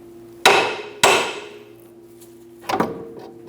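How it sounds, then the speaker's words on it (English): Hammer striking the control arm of a 2003-2007 Honda Accord to knock the ball joint loose, two sharp metallic blows about half a second apart, then a quieter pair of quick knocks after a pause, close and ringing. "give the control arm a bonk to remove the ball joint from the control arm"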